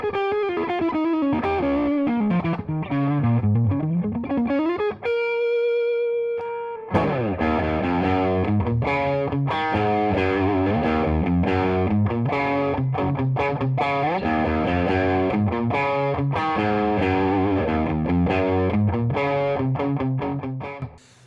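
Electric guitar played through a second-hand overdrive pedal, gritty and distorted, with sliding melodic runs, a brief sustained held note, then busy driven riffs continuing loud and steady.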